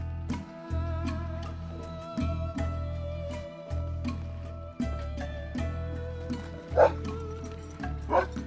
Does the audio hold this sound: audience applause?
no